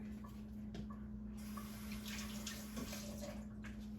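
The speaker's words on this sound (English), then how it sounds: "just rinsing my potato before cutting it" Tap water running steadily into a sink while a potato is rinsed under it, a quiet continuous wash with a few faint splashes and a low hum in the room.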